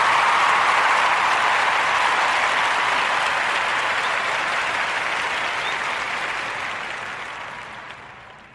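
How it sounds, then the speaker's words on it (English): Sustained applause from a podcast audience for a guest, a dense, steady wash of many clapping hands that holds loud for several seconds and then slowly fades toward the end. "join me in giving our brother that made that all possible a warm narrative round of applause to Brother Marcus Howard"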